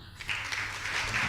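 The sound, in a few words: applause for the next speaker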